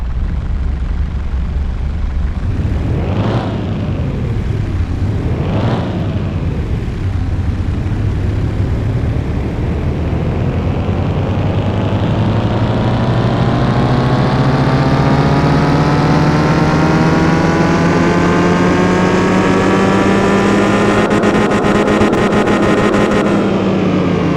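A car engine in Car Mechanic Simulator 2021 revs on a dyno test: two quick blips from idle, then a long steady climb to a loud, high-pitched sustained roar that holds near the end.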